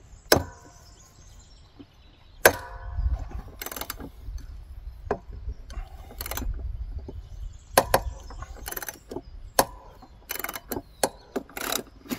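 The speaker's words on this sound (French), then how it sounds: "Avec un cliquet et une douille de 19, on desserre la vis de fixation de la lame." A ratchet with a 19 mm socket works on the blade bolt of a John Deere X740 mower deck, giving close, irregular clicks and sharp metallic knocks scattered over about twelve seconds amid low rumbling handling noise.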